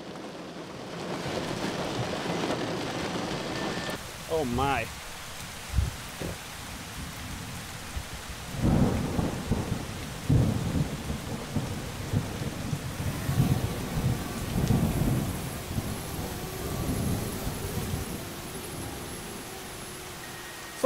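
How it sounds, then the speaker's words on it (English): Steady heavy rain falls around a small DJI Spark drone during an outdoor flight test, a dense continuous hiss with several low rumbling bursts, and a person briefly exclaims near the start. "3 minutes flight test in this actually pretty heavy rain."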